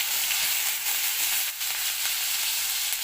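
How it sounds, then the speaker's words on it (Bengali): Onion paste hitting hot oil in a frying pan for a Bengali paneer masala, a loud, steady, close hiss of sizzling throughout with no talking. "এবার পেঁয়াজ বাটাটা দিয়ে দেব।"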